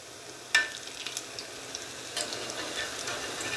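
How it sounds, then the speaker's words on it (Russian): Spiral potato fries sizzle and crackle in hot oil, a steady hiss with occasional sharper pops and spatters, close up and without voices. "И сразу жарится с обеих сторон."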